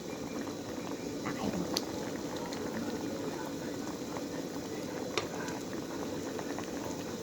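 Sweet potato syrup boils down in a pot, giving a steady, soft bubbling and simmering texture that continues without a break, with occasional faint clicks.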